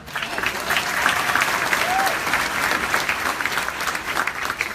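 An audience at an honor society awards ceremony claps steadily for a student being honored. The dense applause stays even and moderately loud throughout, with a faint voice underneath.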